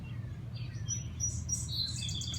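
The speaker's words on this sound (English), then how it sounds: "I can hear birds." Birds singing outdoors, with faint high chirps and short warbling phrases over a low rumble of background noise.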